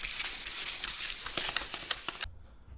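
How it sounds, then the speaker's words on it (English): Fine 1000 grit sandpaper rubbed over a plastic surface, a steady dense scratchy hiss with quick back-and-forth strokes, close and loud, then stopping abruptly near the end. "I'm going to go ahead and use some 1000 grit and make it a little more hazy."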